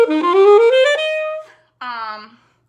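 A saxophone plays a short 2-5-1 warm-up pattern, a run of clear, close notes followed by a pause and one more sustained tone, with no talking.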